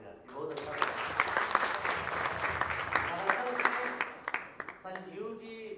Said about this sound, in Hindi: इसके लिए ताली बजाती, बहुत अच्छा।